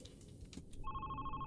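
A phone starts ringing in the horror game Glimpse, a sustained electronic ring tone that begins partway through after quiet background noise.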